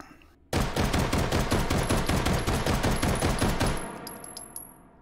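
Rapid gunfire from a Gluger pistol in the VR shooter H3VR during a recoil test with 17-round magazines, a fast steady string of loud close shots lasting about three seconds before trailing off into brass tinkles and echo.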